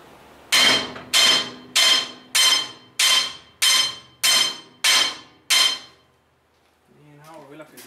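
A hammer strikes a large steel loader bucket to square it up, nine loud ringing metallic blows at an even pace, each with a short clanging decay, followed by someone talking briefly.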